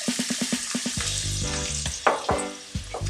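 Green peppers dropped into melted coconut oil for ackee and saltfish, a loud close sizzle with a few stirring scrapes, opened by a quick run of rhythmic taps, no speech.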